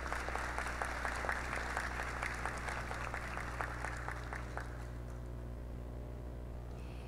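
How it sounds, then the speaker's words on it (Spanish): Applause from an award-ceremony audience for the Promotora del Norte team, a steady wash of many hands clapping that thins and fades toward the end, with no talk over it. "un fuerte aplauso para los integrantes de Promotora del Norte"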